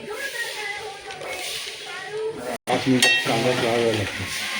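Onions fry in a pot for a spicy Agri-style mutton curry, a steady sizzling hiss with some stirring and clinks, while a person talks over the cooking.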